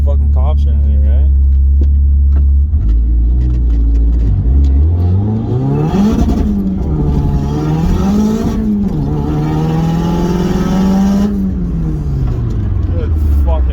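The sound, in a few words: turbo Miata car revving and spinning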